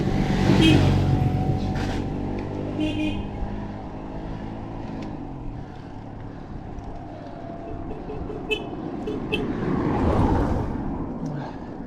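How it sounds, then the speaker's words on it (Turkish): Engine noise from a group of motorcycles riding downhill close by, rising and fading as they roll past, with a steady rumble throughout. "Kaya dibinin motosiklet çetesi aşağı iniyor."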